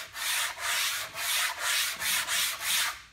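Wooden pieces rubbed back and forth on a sheet of sandpaper to true up band-sawn edges for glue-up, six steady, close, raspy strokes in an even rhythm with short pauses between passes.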